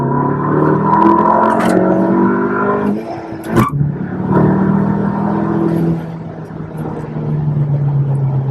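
A 2019 Volkswagen Jetta GLI with an ECS valved exhaust, valves closed, revs in second gear from about 3,000 RPM. It gives a steady, fairly muted drone that rises, dips briefly with a shift, then climbs again, loud and close.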